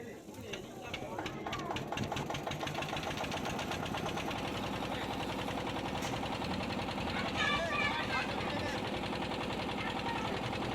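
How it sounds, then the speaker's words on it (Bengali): A river boat's engine starts and settles into a steady, rattling chug, loud and close throughout, with people talking over it. "এই যে ইঞ্জিন স্টার্ট দেওয়া হচ্ছে"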